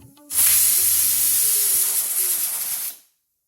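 A loud, steady rush of steam hisses from a pressure cooker cooking toor dal for a few seconds, then cuts off abruptly.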